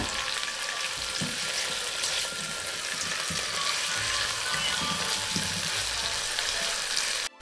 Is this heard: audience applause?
no